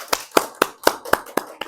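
Hand claps ring out in a seminar hall at Jeonbuk National University as a speaker is welcomed: about seven crisp, evenly spaced claps in quick rhythm, close and distinct rather than a dense crowd roar.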